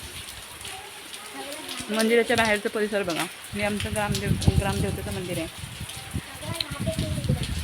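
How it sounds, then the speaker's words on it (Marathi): Steady rain hisses on the grounds outside a Mahakali temple while someone talks over it, the patter continuing without pause. "आता पाऊस लागतोय त्यामुळे बाहेरून व्हिडिओ बनवू शकत नाही"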